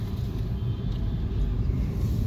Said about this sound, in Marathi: बघा, नवी मुंबईची ट्रॅफिक